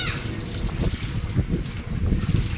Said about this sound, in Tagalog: Ayan o, kaya gumagalaw-galaw ang sipon dahil lakas ng hangin.